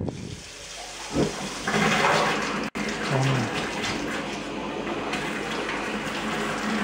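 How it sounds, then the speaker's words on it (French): Hot water gushes steadily from a tap fed by a Bayard 13CF gas bath water heater, a broad continuous rush that swells after a brief start and holds with a short dropout midway. "je vais ouvrir l'eau chaude, on va voir si ça refonctionne"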